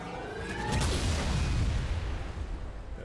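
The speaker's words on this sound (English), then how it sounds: "I couldn't hear because of the giant explosion next to me." A modded weapon in the video game Halo 3 sets off a giant explosion on a large open grass map, a deep rolling boom that swells and then trails off into a long rumbling decay.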